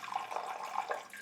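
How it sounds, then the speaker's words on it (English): Warm water pouring steadily into a KitchenAid mixing bowl, a continuous close splashing trickle with no talk. "In my KitchenAid mixing bowl, I'm going to add 300 grams of warm water"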